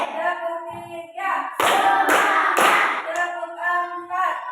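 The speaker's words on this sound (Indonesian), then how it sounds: "Tepuk satu, tepuk dua, tepuk tiga," Classroom of pupils clapping in unison to a counting chant, a few sharp group claps in a row between stretches of children's voices.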